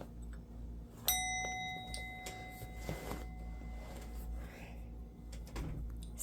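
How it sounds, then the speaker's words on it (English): A small bell at a tarot altar is struck once, giving a clear, bright ring that decays slowly, followed by a few faint clinks and light handling noises in a quiet room. "Let's ring the bell."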